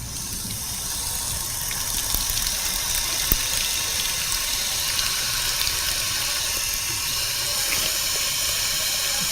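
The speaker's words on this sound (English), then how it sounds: "fill up each and every balloon with water" Water balloons being filled from a running tap: a steady, continuous rush of flowing water fills the whole stretch at even volume, with a few faint clicks and knocks over it and no voices.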